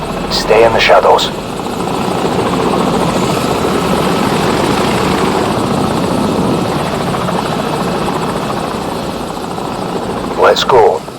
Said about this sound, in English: Enemy helicopter! Get down! Stay in the shadows.